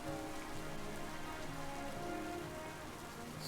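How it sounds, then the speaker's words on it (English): Steady rain pours onto surfaces in the video game Pokemon Legends Z-A, a dense, even patter of drops holding constant throughout without voices. "Rain!"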